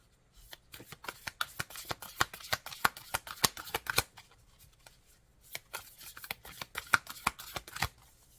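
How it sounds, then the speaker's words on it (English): An oracle card deck is riffled and shuffled in quick bursts of crisp flicking and slapping, two runs separated by a short pause, close and quiet with no talk. "I feel like I need to pull 1 card from this deck"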